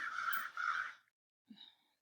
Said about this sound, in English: There's like crows going around.